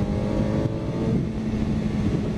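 A 2015 Suzuki GSX-S750 motorcycle accelerating hard in fourth gear around 105 km/h, its engine note a steady, loud roar with rising harmonics and heavy wind rush, no voices.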